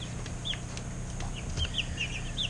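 Pearl guinea fowl chicks cheep in short, high, scattered peeps. The calls sound faint to moderate over a steady low background hum, as if indoors in a brooder.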